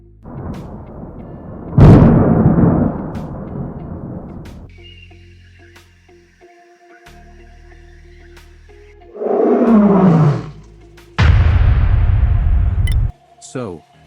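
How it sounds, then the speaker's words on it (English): AI-generated roar effects: a loud, deep animal roar opens, followed later by a rising growl and a booming blast, each abrupt and separated by quieter gaps with faint tonal background. "Roaring Effect, just type roar."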